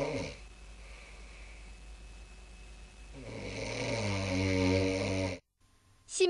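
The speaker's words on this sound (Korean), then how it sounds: "심하게 코를 골더니 갑자기 20초가량 숨을 멈춥니다" A woman in her thirties snoring heavily during an overnight sleep-clinic study, with sleep apnea: rough, rattling snores growing louder, then a sudden break into near silence before breathing resumes.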